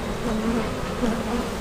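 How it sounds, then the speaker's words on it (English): A dense, close swarm of bees in a hive box hums continuously, a low droning buzz with slight wavering pitch. "This is a box of bees here."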